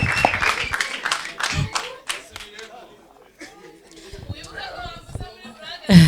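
Audience clapping for a comedian on stage, a dense burst of applause in the opening seconds that thins out under talk, with another short flurry of claps near the end.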